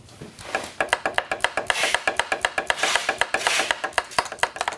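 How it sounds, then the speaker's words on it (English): A ratchet wrench tightens the sway bar end link on a BMW 1M during a Dinan sway bar, end link and monoball install, giving a fast, steady run of close, crisp clicks. "At least it's ratcheting, thank goodness."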